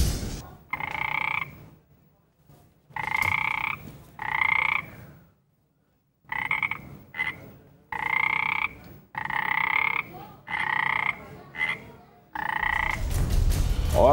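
Golden frogs in Panama croak in a series of loud, close, buzzy calls, each lasting about a second, separated by short pauses.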